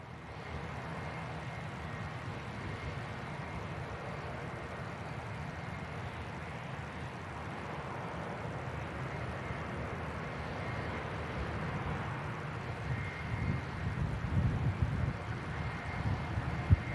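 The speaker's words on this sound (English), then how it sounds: "got the Air Transat A321neo coming in from Toronto" An Air Transat A321neo airliner arriving at Manchester Airport from Toronto gives a steady, distant broadband engine roar under outdoor wind noise. It swells slightly louder toward the end.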